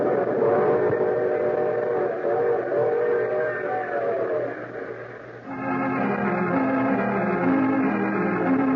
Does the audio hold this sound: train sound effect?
yes